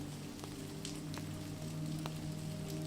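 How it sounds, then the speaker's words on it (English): Steady rain falls in a soft, even hiss that holds without pause for the whole stretch, faint and constant, with a low steady hum running underneath and no voices. "The falling rain helps guide you into a peaceful slumber"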